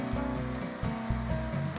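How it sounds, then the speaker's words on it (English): A river flows in a steady, continuous rush of water that fills the whole stretch, with a low, droning undertone and no voices. "Then it flows into this gorgeous river."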